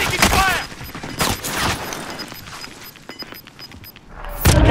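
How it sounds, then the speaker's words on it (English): Gunfire in Call of Duty Warzone: a few sharp, loud shots and bursts followed by a quieter stretch and another heavy hit, with game voice callouts mixed in. "I'm taking fire!"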